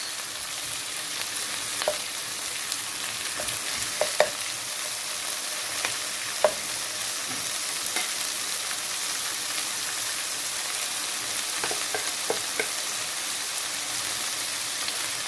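Shrimp fry in a pan of oriental stew, giving a steady, close crackling sizzle that holds throughout, with a few sharper pops and light stirring clicks and no voices.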